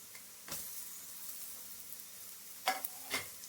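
Raw mango pieces go into a hot pan for mango chitranna, and a soft, faint sizzle runs throughout, punctuated by a few quick stirring scrapes.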